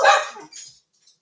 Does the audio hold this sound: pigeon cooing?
no